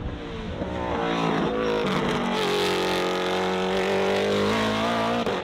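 An S5000 open-wheel race car engine in a simulated race at Imola screams loudly and continuously, its pitch climbing and dropping through gear changes.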